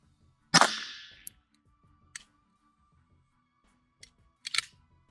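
A GSG 1911 .22 LR pistol fires one sharp, loud nearby shot with a short ringing tail. A few faint metallic clicks follow, with no further shots.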